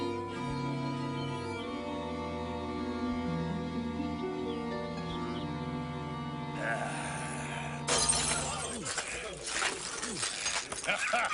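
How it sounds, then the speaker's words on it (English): A drinking glass shatters with a bright crash and scattered tinkling shards, rising over a steady bed of tonal background music in a rustic mountain-home setting. "Buy yourself some stronger glass, Ripple."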